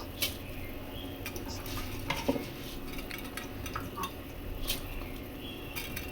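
Soaked rice being mixed into methi (fenugreek) pulao in a pot, with soft repeated scrapes and light clinks of a spoon against the metal, steady and close, with no talking.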